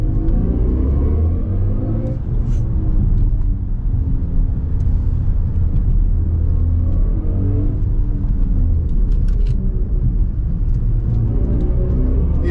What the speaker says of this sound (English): I'm gonna let you listen to the noise when you're stepping on the accelerator here.